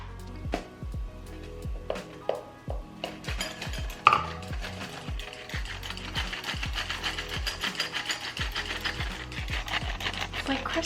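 Confectioner's sugar being sifted into a small bowl for an amaretto glaze, a loud rapid mechanical clicking and rattling from the sifter, irregular at first and then a dense continuous churn.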